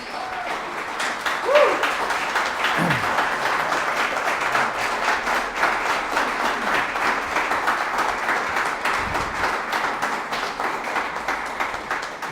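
An audience at a Democratic candidates' debate applauds, dense sustained clapping from a crowd in a hall, steady throughout with a few faint voices underneath.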